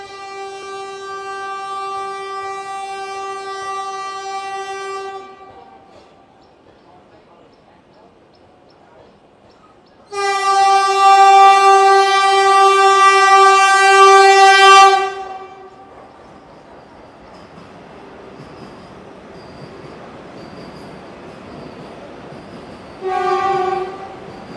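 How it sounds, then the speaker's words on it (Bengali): Howrah–Puri Vande Bharat Express train horn blaring in two long, loud harmonic blasts, then the passing rumble of the train, with a short horn toot near the end. "এই বেরিয়ে গেল হাওড়াপুরি বন্দে ভারত"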